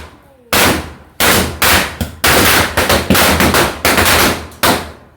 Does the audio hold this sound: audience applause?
no